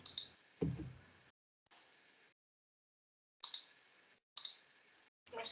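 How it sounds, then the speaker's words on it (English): Computer mouse clicking in short bursts of sharp, high clicks separated by silences, with a brief low thump early on and no talking. "it's because I'm clicking on shit"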